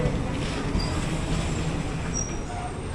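A small local passenger train in Assam rumbles along steadily, with continuous wheel and carriage noise and faint squeals over the rails, heard from inside at close range.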